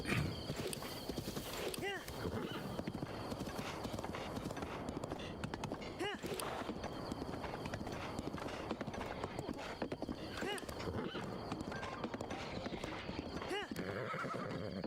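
A horse in the Zelda Breath of the Wild video game gallops with steady clip-clop hoofbeats and lets out repeated neighs and whinnies, all at a moderate level over continuous game ambience.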